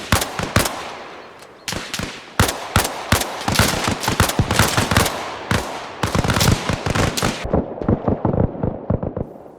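Bursts of PKM machine gun fire in the video game Arma Reforger, loud and close, with rapid repeated volleys and short pauses continuing throughout.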